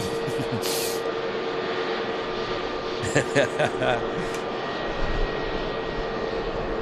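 A Scandinavian airliner taxiing past at Manchester Airport, heard as a steady loud engine roar throughout with a few brief knocks and clatters partway through.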